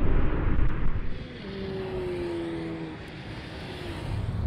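Audi S8, S3 and A8 cars accelerate in a drag race, one of them a diesel and one a V8, making a steady roaring engine drone with a rising tone, heard from inside one car.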